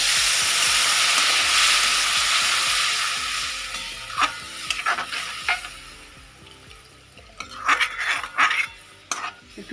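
A potato, fenugreek and pea curry sizzles loudly in a pan, then the frying hiss fades as water goes in and a spoon scrapes and clinks against the pot in short, irregular strokes.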